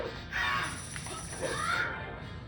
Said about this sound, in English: The blue Raven.